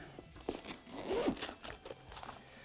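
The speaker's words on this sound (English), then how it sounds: "as far as the zippers go, again, same as the tail bags. We'll open that up." Zipper pulled open on an Oxford S-Series motorcycle tank bag, a close rasping scrape lasting a couple of seconds with a few sharper clicks around it and no talking.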